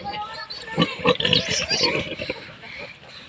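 Pigs kept around a farmhouse grunt and oink in short, uneven bursts close by, with people talking over and around the animal sounds.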